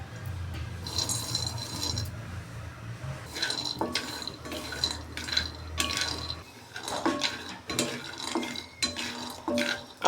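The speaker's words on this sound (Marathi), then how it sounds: "शेंगदाणे भाजण्यासाठी आपण कढई गरम करून त्यात शेंगदाणे असे कमी गॅसवरच भाजून घ्यायचे आहेत." Peanuts being roasted on low flame in a hot kadai, stirred with a spoon and rattling against the metal in irregular clinks and scrapes, close up and moderately loud, without speech.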